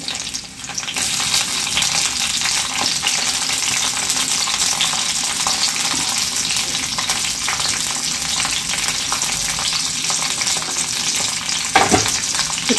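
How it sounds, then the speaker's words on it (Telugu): Curry leaves and chopped green chillies dropped into hot oil for a farm chicken curry, a loud, continuous crackling sizzle with scattered spattering pops and a brief clatter near the end, no speech. "ఫస్ట్ మనం కొంచెం కరివేపాకు వేసుకుందాం. వాటితో పాటు మనం కట్ చేసి పెట్టుకున్న పచ్చిమిర్చి వేద్దామండి."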